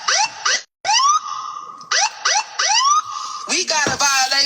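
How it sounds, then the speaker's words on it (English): Siren sound effect played during a morning livestream, with repeated rising and falling wails in several loud bursts, a brief gap, then a faster warbling siren near the end. "Let me play my siren."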